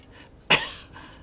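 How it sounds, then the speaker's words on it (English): A man gives one sharp, close cough, short and alone against a quiet background. "God's making me cough."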